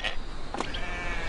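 A sheep on the Shetland Islands bleats once, a short call standing out against steady, breezy outdoor background noise, with no talk.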